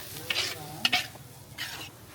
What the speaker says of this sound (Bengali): আমাদের মশলা এটা ভাজা হয়ে গেছে